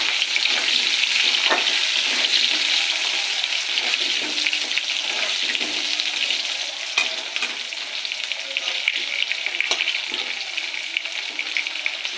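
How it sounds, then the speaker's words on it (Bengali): Potatoes fry in oil with a loud, dense crackling sizzle that holds steady throughout, broken by occasional sharp pops and light stirring clatter. "এবার আলুগুলো ভেজে নেব।"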